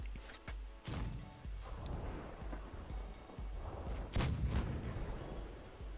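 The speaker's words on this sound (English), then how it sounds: "that missile did not pen" Gunfire and missile impacts in World of Tanks Blitz during an RN versus FEAST tournament match: repeated heavy booming shots, a loud blast near the four-second mark, over a dense rumbling battle bed.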